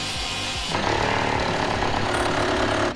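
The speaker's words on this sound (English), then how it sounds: "It's kind of weird grinding on a brand new trailer that you just painted." An angle grinder working on a newly painted steel trailer, a loud harsh continuous whine and rumble that rises in pitch after a rougher start, close by.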